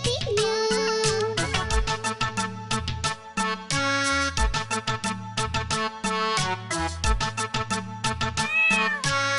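Meowing in a Hindi children's nursery rhyme, repeated cat-like meows carried over bouncy, loud continuous music, likely a voice imitating the cat.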